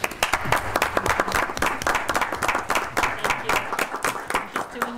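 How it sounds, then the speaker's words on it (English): An audience at a borough council meeting gives a round of applause for councilwoman Dawn, with sustained, moderately loud clapping and a few voices underneath. "So, round of applause for Dawn."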